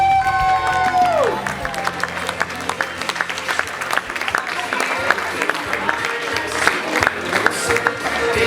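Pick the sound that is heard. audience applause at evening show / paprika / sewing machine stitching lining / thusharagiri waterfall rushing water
audience applause at evening show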